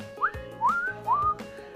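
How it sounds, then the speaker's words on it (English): Three short rising whistles from a guinea pig come in quick succession, each a clear squeaky upward chirp, close and distinct against a quiet background with faint low noise. "And they're quiet. They just make little whistles."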